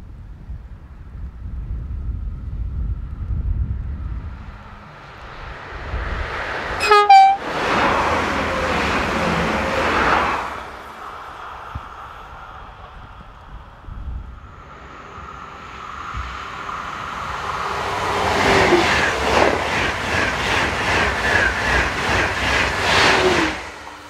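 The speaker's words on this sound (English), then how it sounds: "In the opposite direction, Z55500 unit, number 57, heads towards Rennes," An SNCF Z55500 electric multiple unit, number 57, heading towards Rennes on a driver training run passes by in two loud broadband surges with a sharp horn-like tone near the start, rumble and wind between them, no talk.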